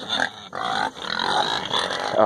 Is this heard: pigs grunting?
yes